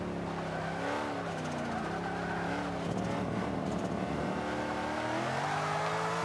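A Z06 Corvette in Forza 5 revs hard with the tires spinning, a loud, close engine whine rising and dropping through several surges, with a raspy broken stretch in the middle, and no voices.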